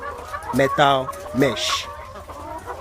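Hens housed in metal-mesh battery cages on a poultry farm cluck a few times, loud and nearby, with short pitched calls rising over a low steady barn hum.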